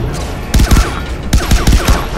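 Rapid bursts of gunfire in the video game Far Cry 3 Blood Dragon, two loud clusters of quick successive shots separated by a brief lull, close and punchy over a low game background.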